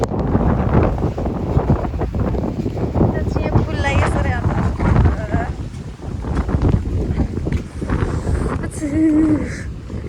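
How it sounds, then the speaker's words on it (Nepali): A strong windstorm sweeps across a maize field, buffeting the microphone with heavy, gusting roar throughout while a person talks over it. "फेरि आयो हावाहुरी अझै आयो"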